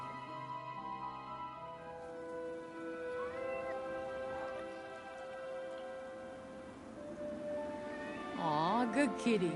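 A cat meows in the game Forspoken, with a few soft mewing calls over a rain-like ambient bed and game music, then a louder, wavering meow near the end.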